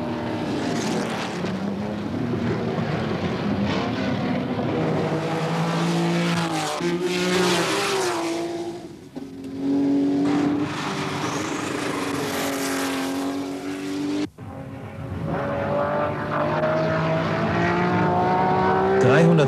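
Race cars at the 1976 Le Mans 24 Hours, including a Porsche 935, roar past with loud, sustained engine howls whose pitch climbs and falls through gear changes, with a brief dip as one pass fades before the next car arrives.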